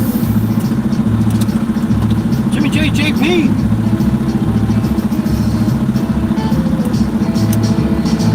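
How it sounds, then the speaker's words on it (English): Truck engine idling with a steady low rumble and clattering pulse throughout, while people talk over it nearby. "You like the pretty truck noises"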